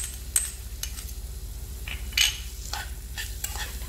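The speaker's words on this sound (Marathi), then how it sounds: "हे सगळं नीट मिक्स करून घेऊयात।" A potato stuffing of grated carrot and mashed paneer is stirred in a pan, with soft scraping and a few utensil clicks over a faint sizzle and no talk.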